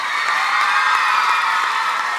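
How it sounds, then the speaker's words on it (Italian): A studio audience at a televised dance show cheers and claps for young dancers, a dense, continuous wash of applause and shouting that stays loud and even throughout. "Quindi io farei un applauso proprio ai ragazzi."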